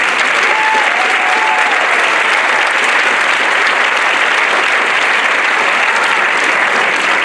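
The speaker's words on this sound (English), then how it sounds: "a round of applause to our grade 5" Sustained applause from a crowd, dense and steady clapping throughout, loud and close, with no pauses.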